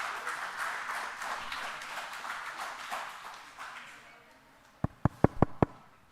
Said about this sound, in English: Please welcome Professor Agarwal with a huge round of applause